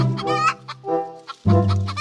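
A chicken clucks loudly and close by in a few bursty, harmonic calls, with short pauses between them and no talking.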